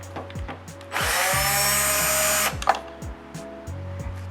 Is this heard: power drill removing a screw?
yes